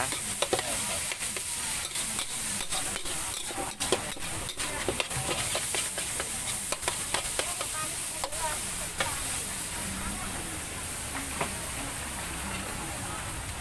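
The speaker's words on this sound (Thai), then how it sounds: "ของเราผัดทีละหนึ่งกิโลหนึ่งกิโลนะ" One-kilo batch stir-fried in a pan at a Thai street food stall: a steady, loud sizzle runs throughout, cut by frequent sharp spatula clacks and scrapes against the metal.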